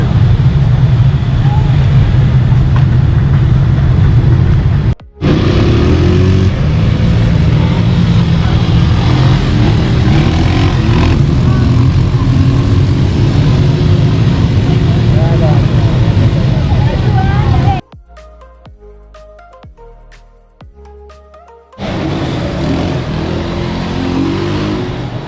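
Quad bikes ride across desert sand, their engines revving loud and close through most of the stretch, with a brief cut and a quieter gap near the end before the motor noise returns.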